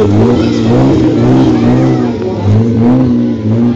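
A car engine revs loudly and close by on an off-road course, steady throaty drone with slight pitch swells as the vehicle turns around.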